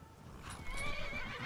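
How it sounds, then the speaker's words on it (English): A horse in the Skyrim video game answers a horse call, with a whinny and clip-clop hooves that grow louder and closer across a short stretch, with no talking. "Now, horse call. We need to get our horse over here"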